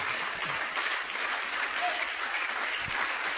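A church congregation at a 2018 convention in Côte d'Ivoire applauds steadily, a dense and even wash of many hands clapping throughout, with no voices standing out.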